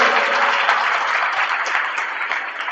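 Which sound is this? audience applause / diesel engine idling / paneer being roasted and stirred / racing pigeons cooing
audience applause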